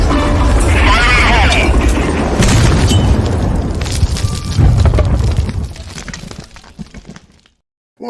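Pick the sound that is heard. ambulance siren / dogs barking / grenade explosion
grenade explosion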